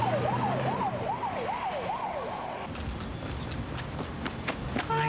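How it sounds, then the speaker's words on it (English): Rescue vehicle siren wailing in a steady up-and-down cycle, loud and close, then giving way to road noise and faint bursts of other sounds for the last half. "Rescue vehicles were immediately launched"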